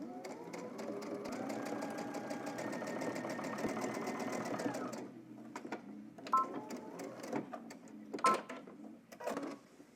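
A sewing machine top-stitches a jeans fly front: a steady, fast mechanical run of needle strokes for about five seconds, then stops, followed by a few short bursts and clicks close by.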